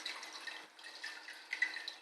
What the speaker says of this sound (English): we're going to tip some water over it.